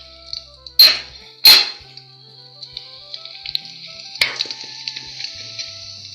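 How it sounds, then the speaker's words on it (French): Shrimp tipped into hot oil in a cooking pot give two sharp, loud sizzling bursts close by, followed by a steady hiss of frying with scattered pops and later a third sizzling surge. "Voilà, ça y est, mon huile est chaude. Je vais verser d'abord mes crevettes."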